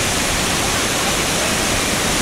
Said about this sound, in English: Now, this waterfall, the river, before this waterfall stream is Cicadas